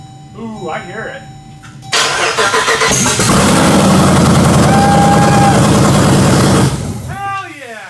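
A Hellcat-swapped Charger Magnum station wagon engine cranks, then catches and roars into a loud, rough idle close by for several seconds before settling, with excited voices heard before and after.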